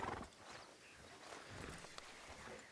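Horse hooves clip-clop in the Red Dead RP video game, a steady walking rhythm of moderate loudness under a dense wash of game ambience with no voices.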